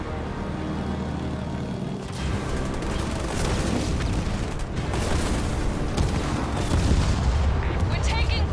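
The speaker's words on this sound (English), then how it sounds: "The Banished have sent in artillery" Heavy artillery fire from the Banished in the game Halo Wars 2, with dense, continuous booms and gunfire rumbling loudly throughout, and voices under the barrage.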